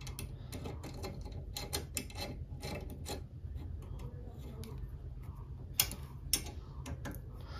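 Nuts being tightened on the head of a slingshot rifle, a busy run of small metallic clicks and ratcheting ticks over a low steady hum, close and moderately loud, with no talk.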